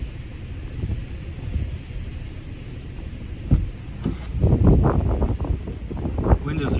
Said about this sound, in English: Wind is absolutely ripping right now.